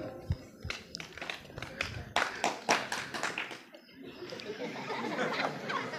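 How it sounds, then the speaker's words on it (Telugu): A church congregation claps hands together, a dense burst of applause in a reverberant hall with a few laughs mixed in, fading into crowd murmur after about four seconds. "చప్పట్లు కొట్టు"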